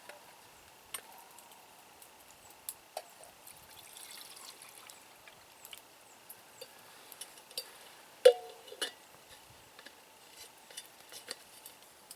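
Water trickles and pours into a metal cup outdoors among pine trees, with light clinks and taps of metal throughout in a quiet setting.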